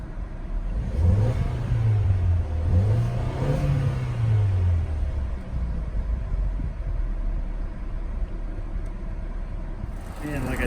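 A 2017 Ford Escape SE's 1.5-liter turbocharged inline-four EcoBoost engine revs up and down a couple of times close by, then settles back into a low, steady hum.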